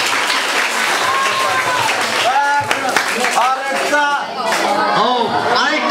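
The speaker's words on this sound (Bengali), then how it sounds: "ওনাদের উদ্দেশ্যে আমরা জোরে একটা তালি দিই।" An audience claps loudly and continuously while voices talk and shout over the applause throughout.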